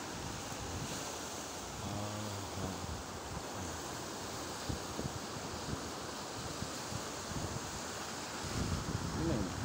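Ocean surf rolls continuously onto a beach, a broad steady wash of waves with wind buffeting the microphone, and a voice briefly heard early on.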